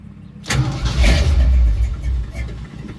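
A 1968 Ford F100 pickup with a 360 V8, just after a carburetor rebuild, cranks briefly and fires, then settles into a loud, rough, rumbling run close by with no talk.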